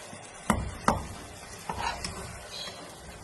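Beef being stirred into masala in a pan for beef mappas, with two sharp scrapes of a spoon against the pan followed by softer stirring and a light sizzle, close and alone.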